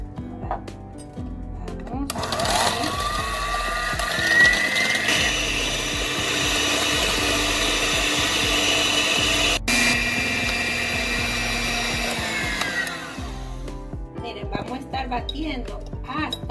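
An electric mixer whips instant coffee with brown and white sugar for dalgona coffee, a loud, steady motor whine that holds for about ten seconds with a brief change in pitch partway through, under a voice speaking Spanish.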